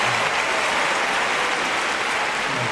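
A sumo arena crowd at the Nagoya Basho applauds Asanoyama's win, a dense, loud wash of clapping that holds steady throughout.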